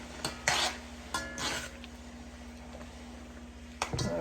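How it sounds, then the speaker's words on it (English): A spoon stirs brown sugar into homemade apple sauce in a pot, giving a few soft scrapes and clinks near the start and end over a low steady hum, quiet in between. "So just gonna stir this up."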